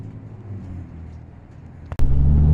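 A Ford V10 6.8 engine in a lifted Econoline camper van: a low, muffled rumble that suddenly bursts into a loud, close, heavy roar near the end.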